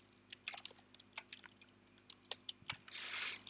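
Typing on a computer keyboard while entering an arithmetic expression in a Squeak Smalltalk console: a run of close, crisp key clicks at an uneven pace, ending in a brief burst of denser noise.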